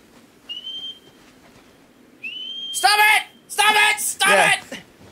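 Two short, clear whistled notes, each held about half a second, come first, then rapid voices break in. The setting is gameplay from Shadow of the Colossus.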